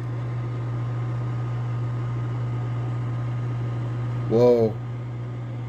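An older microwave oven runs with a steady low electrical hum and faint airy whir, constant throughout, briefly broken by a short exclaimed voice near the end.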